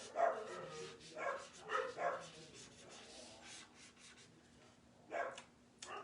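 A dog barks and yips a few times in muffled bursts, sounding slightly distant, with quiet gaps between.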